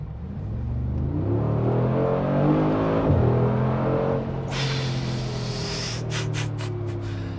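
A car accelerates hard at full throttle, its engine note climbing loud and close, dipping briefly at a gear change and then pulling upward again as it keeps gaining speed.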